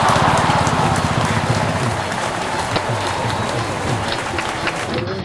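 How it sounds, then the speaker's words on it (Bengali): An audience at a stage event honouring channel anchors claps loudly, a dense, steady patter of applause that gradually thins toward the end. "একবার জোরে হাততালি হয়ে যাক।"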